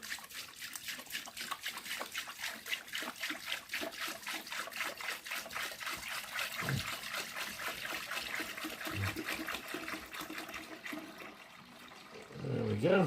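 A friction plate sits submerged in a chemical dip liquid, giving a rapid, steady bubbling and fizzing close by, with a brief bump near the end.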